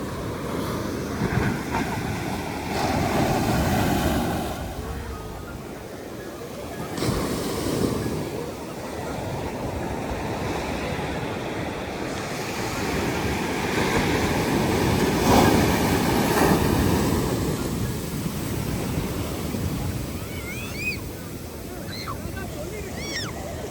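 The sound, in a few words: ocean waves on Alappuzha beach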